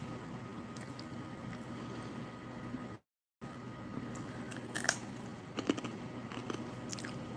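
Roasted chickpea snack from a kosher XMRE ration being chewed, with repeated dry crunches and bites close to the mic over a steady background hiss, no talking.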